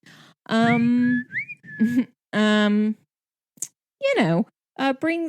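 Someone whistles a few short melodic phrases, near and clear, with brief breaks between them and some sliding pitch toward the end.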